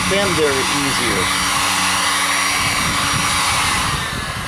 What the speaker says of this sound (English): I'm going to get myself a heat gun